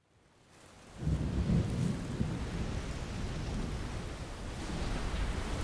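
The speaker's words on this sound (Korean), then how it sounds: "천둥이 치고 벼락이 떨어졌다" Thunderstorm sound effect in a martial-arts audiobook, a deep roll of thunder swelling in after a second over steady heavy rain and wind, with no narration.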